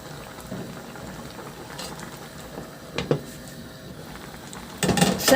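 Fish and mustard greens simmer in broth in a covered pot, making a low steady bubbling that swells briefly and ends with a louder rattle of the lid and pot.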